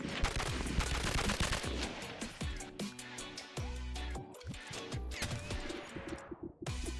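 Rapid bursts of HK G3 and MP5 gunfire in the VR shooter Bonelab, loud dense automatic shots rattling almost continuously before tapering into a few final cracks.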